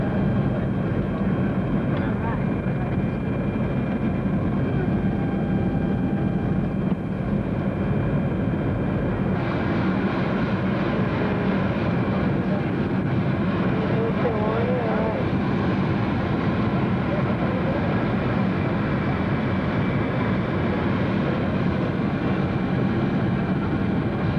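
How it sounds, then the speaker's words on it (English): Airplane landing, a steady loud cabin roar of engines and airflow heard from inside, with a shift in tone partway through and faint voices beneath it. "Now we're just landing."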